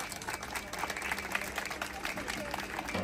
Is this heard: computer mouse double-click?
no